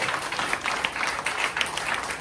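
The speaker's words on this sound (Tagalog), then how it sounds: "Palakpakan po natin ang Panginoon sa kanyang buhay." Steady audience applause at a church service, a dense wash of many hands clapping continuously at moderate volume, with faint cheering mixed in.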